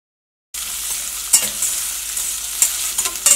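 Chopped onion and ginger sautéing in a pan on a home stove, a steady soft sizzle with a few sharp scraping stirs of a spatula, close and alone without talk.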